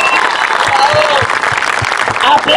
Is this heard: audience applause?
yes